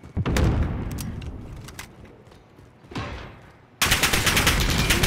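Video game gunfire comes as rapid bursts of close shots, first dying away into echoing tails, then breaking out again as a loud, sustained volley.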